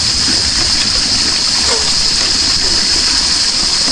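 Water gushes and splashes steadily at a refilling station, a continuous loud rushing stream with a constant high hiss and no pauses throughout.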